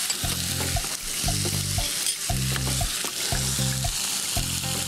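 Garlic and ginger paste fries in a pan with fish, a steady loud sizzle underneath a regular pulsing low rhythmic tone that repeats about once a second, close and continuous, without speech.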